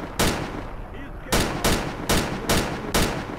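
Gunfire in the video game STALKER: Call of Pripyat: one loud rifle shot, a short pause, then five evenly spaced sharp shots, each with a ringing tail over a steady background rumble.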